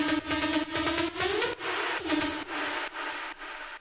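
A bright, buzzy synth lead from the Vital preset Intensity, played in FL Studio for an EDM drop, with sustained notes chopped into rhythmic bursts and a pitch sweep, loud and alone.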